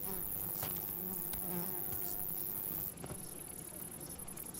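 Steady buzzing of wild bees close by, a continuous insect drone with faint outdoor background noise and no talking.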